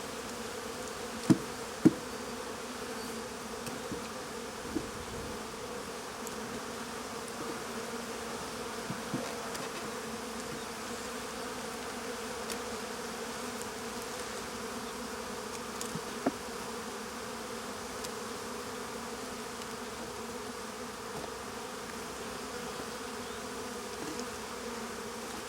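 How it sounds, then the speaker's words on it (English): Honeybees buzzing steadily around the top box of a hive, a faint continuous hum of many insects close by, with a few soft knocks and no talk. "So these bees should be mixing together now."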